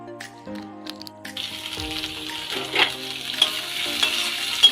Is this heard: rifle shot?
no